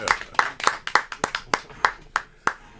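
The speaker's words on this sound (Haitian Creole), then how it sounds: "On applaudit nouvelle Haïti" Hands clapping in a quick, uneven rhythm of about a dozen sharp claps, close and distinct, without a dense crowd roar behind them.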